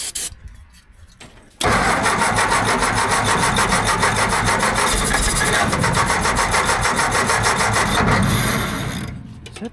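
An old Asplundh JEX wood chipper's engine is cranked by the starter, with a few weak turns first, then a loud sustained churning crank for several seconds before it stops without catching.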